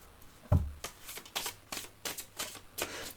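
A deck of cards is shuffled by hand for a tarot-style reading: a quick run of close, crisp riffling bursts that starts with one sharp slap, with no voices.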